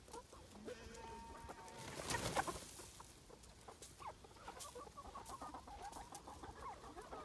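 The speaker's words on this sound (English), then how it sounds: "Go feed your chickens." Backyard chickens clucking as dry feed is scattered for them, several birds making soft, irregular clucks and calls at close range, with a louder rustling burst early on.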